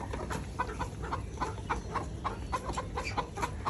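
Farm chickens cluck in short, repeated calls over a steady background hiss, the clucks fairly close but soft and continuing throughout.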